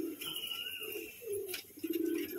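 A roller pigeon kept for sale gives soft, throaty coos in short repeated phrases, near and moderately loud against a quiet background.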